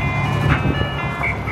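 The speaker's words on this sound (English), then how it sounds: "If you see or hear ice cream truck," An ice cream truck on a South Los Angeles street plays its tinkling chime melody, loud and near, with a low engine hum beneath.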